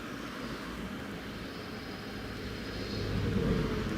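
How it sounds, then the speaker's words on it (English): A SunExpress airliner lining up on runway 25 at Newcastle International Airport during Storm Amy, heard as a steady distant engine rumble and whine mixed with wind, growing slightly louder toward the end. "There's the Sun Express just lining up now."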